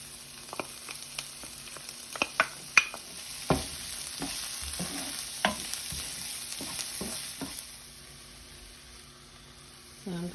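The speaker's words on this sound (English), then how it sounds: "Letting it saute for about 2 minutes" Green onions, peas and carrots sauté in a pan for shrimp fried rice, a soft sizzle under repeated clacks and scrapes of a utensil stirring, fairly close, fading to quiet sizzling near the end.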